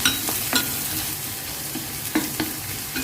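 Sliced onion frying in a pan with green chilies and grated garlic, a steady low sizzle broken by a few sharp stirring scrapes near the start and toward the end.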